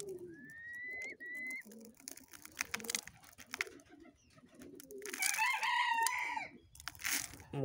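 Pigeons being fed coo in low, repeated murmurs close by, joined by other bird calls, including a loud rooster-like crow near the end.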